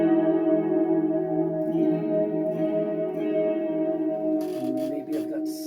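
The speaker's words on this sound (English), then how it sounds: "slightly too much reverb trail, too much decay" Electric guitar chords ringing with a long reverb tail and heavy decay, sustained tones washing together, followed by a few brief scratchy strums near the end.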